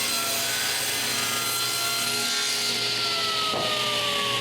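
A hand saw cuts a large piece off an original wooden door frame, a steady, close, continuous rasping with no pauses and no voices.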